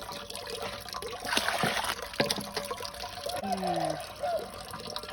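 Water is poured over sand in a container and swirled to rinse it, giving intermittent splashing and trickling sounds that rise and fall close by.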